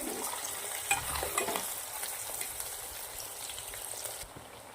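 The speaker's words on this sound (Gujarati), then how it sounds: "આપણે બટાકાને તળી લેવાના છે" Steady, crackling sizzle of potatoes frying in hot oil, with occasional louder pops and a stirring scrape, no voices.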